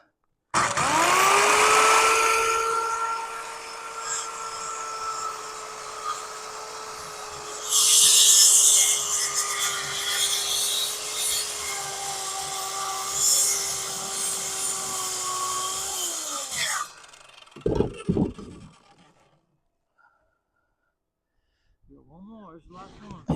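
A power saw cuts through lumber for a backyard patio build, a long steady whining run of about sixteen seconds with a brighter gritty stretch partway through, then stopping, followed by a few clunks and a short voice.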